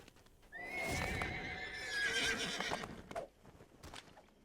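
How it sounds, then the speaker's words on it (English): A horse in the Dungeons and Dragons Online video game lets out a clear, drawn-out whinny over rhythmic clip-clopping hooves, fairly close and alone. "Pop the horse and get to riding."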